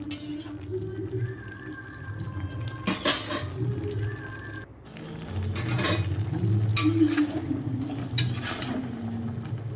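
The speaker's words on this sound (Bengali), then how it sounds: "তারপর যে ভেজে রেখেছিলাম বেগুন, করলা ভাজা আর বড়ি, সেইগুলোও আমি দিয়ে ভালোভাবে নেড়ে নেবো" Fried eggplant, bitter gourd and lentil dumplings are stirred in a pan for a Bengali shukto, with a spoon clinking and scraping against metal in a few bursts over a low simmering background.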